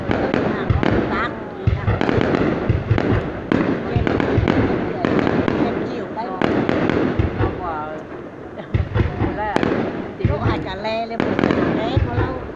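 Lunar New Year's Eve fireworks in Bắc Kạn province, 2019, burst in rapid repeated cracks and booms, with onlookers talking over the display throughout.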